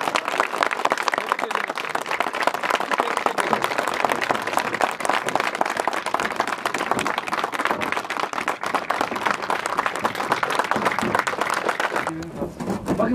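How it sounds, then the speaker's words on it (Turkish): Applause from a crowd gathered at a municipal sit-in protest, steady and dense for most of the clip, with voices mixed in and the clapping dropping away near the end. "Alkış, alkış,"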